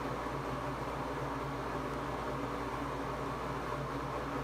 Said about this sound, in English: That's causing a little white noise to block out the kitten meowing noise.